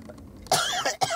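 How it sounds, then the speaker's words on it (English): A man gives a couple of harsh, raspy coughs close to the microphone after a brief quiet moment. "As I cough my fucking voice box out of my fucking throat."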